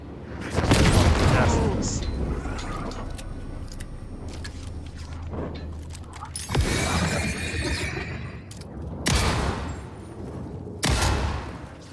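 Gunfire in the video game Alan Wake II, several loud, sharp shots spaced irregularly across the stretch, each with a booming tail, mixed with game ambience and a voice talking at times.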